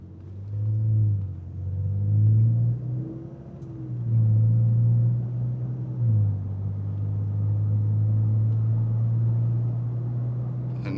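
A Nissan Frontier pickup pulling away: the engine drone climbs, dips briefly as the gears shift, then holds a steady, fairly loud rumble from inside the cab.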